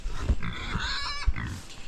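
Farm pigs in New Zealand grunting and squealing as they fight over food, a few loud, harsh oinks with short snorts in between, close by and without any talk.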